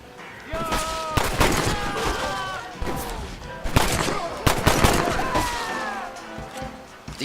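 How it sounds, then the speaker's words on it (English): Pistol gunfire in Red Dead Redemption, a string of sharp, loud shots fired in irregular bursts with ringing echoes and shouts between them. "Actually, I quite like this pistol too."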